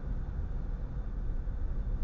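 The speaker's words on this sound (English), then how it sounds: "So this is what you would hear inside of the car." Steady low road rumble and broadband hiss inside a car cabin while driving, recorded by a dash cam, moderately quiet and constant for about two seconds with no talking.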